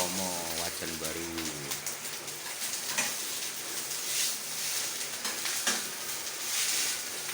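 Sizzling and stirring of special teppanyaki nasi goreng frying in a square stainless wok, with steady crackling hiss and occasional scraping, loud and close throughout.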